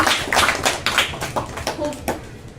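An audience claps for Shibam Das at a school assessment event, giving a short burst of brisk, close applause with some talk faintly underneath.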